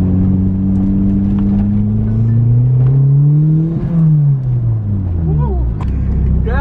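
A turbocharged manual Honda Civic accelerates hard, its engine note climbing steadily, dipping at a gear change, then rising again, with cabin rumble throughout and people talking and exclaiming over it.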